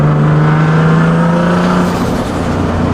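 Nissan 370Z engine pulling hard in second gear before a T51R turbo modification, a loud steady engine drone with a rising tone that fills the whole clip, close and continuous with no talking.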